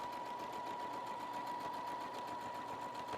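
A sewing machine stitches a French seam at half the seam allowance, a fast, even, continuous mechanical whir with a steady pulsing rhythm, heard close and fairly quiet throughout.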